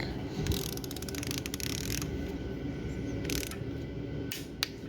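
A ratchet tightens engine bolts on a Nissan KA24E, close, rapid clicking bursts in several short runs separated by pauses, with faint background hum.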